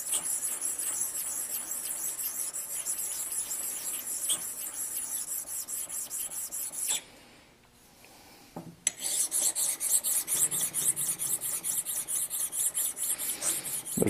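A steel square's edges rub back and forth on a precision ground flat stone, a close, continuous gritty rasp that pauses for about two seconds midway before resuming in rhythmic strokes.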